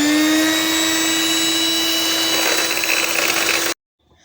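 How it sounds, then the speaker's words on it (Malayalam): Instant coffee, sugar and water whipped for dalgona coffee with an electric beater, a steady loud whirring drone that runs without a break and then cuts off abruptly near the end. "ഇനി നമുക്കിത് ഒന്ന് ബീറ്റ് ചെയ്തെടുക്കാം."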